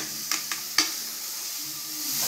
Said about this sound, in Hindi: अब हम डालेंगे थोड़ा सा ऑयल, ऑलिव ऑयल. देखिए कैसे पक रहा है.